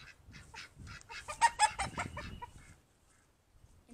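A flock of chickens clucks and squawks in a busy cluster of overlapping calls, fairly faint, fading to near quiet toward the end.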